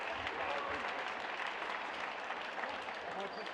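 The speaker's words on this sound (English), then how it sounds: "Give it a big round of applause." At a WNBL basketball game between Southside Melbourne Flyers and Townsville during Indigenous round, the arena crowd claps in a soft, distant wash of applause, with an announcer's voice running over it.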